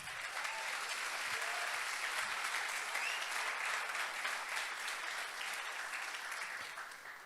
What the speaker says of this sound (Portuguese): Dá uma salva de palmas, Senhor.